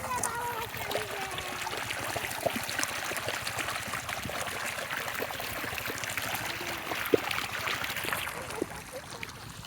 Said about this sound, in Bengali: এই যে দেখেন পানি আসছে